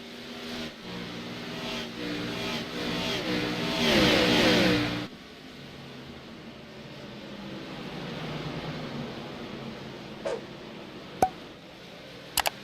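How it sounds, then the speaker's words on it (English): Xfinity Series race cars roar around the Richmond oval in the iRacing simulator, a dense engine drone that swells to a loud peak, then settles into a steadier hum with a few sharp clicks near the end. "he's got a mirror full of Dean Darth Maul, who is going to take the inside in turn number 1"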